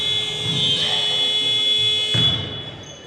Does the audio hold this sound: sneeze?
no